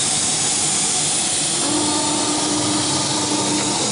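A Chinese CNC router machine running, giving a loud, steady hiss and motor whine that holds without a break, with a faint tone rising partway through as the machine begins to move.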